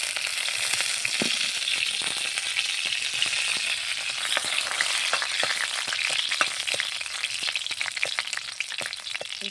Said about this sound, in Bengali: তেলে কটা রসুন ছেঁচা, কটা শুকনো লঙ্কা,